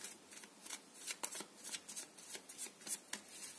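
Tarot cards shuffled by hand in a series of quick, crisp riffling bursts, each a short papery flutter, close and fairly quiet with no voice over them.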